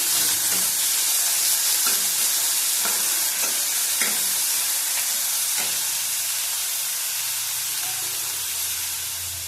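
Chopped onion sizzles and fries steadily in hot oil while fish is cooked with panch phoron, with occasional stirring scrapes and clicks over a continuous loud hiss.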